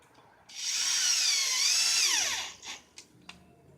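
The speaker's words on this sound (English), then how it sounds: "we'll just take this drill and the picket, put the picket up here" A power drill drives a screw into a wooden fence picket in one loud whining burst of about two seconds, pitch dropping as it finishes, followed by a few short clicks and taps.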